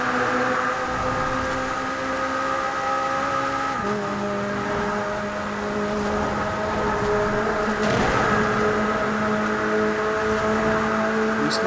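A stock McLaren Speedtail hypercar cruises fast along a motorway in Forza Horizon 4, its engine holding a steady high drone with one clear gear shift partway through, loud and continuous with no talk.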